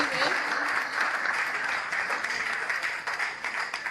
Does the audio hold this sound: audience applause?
yes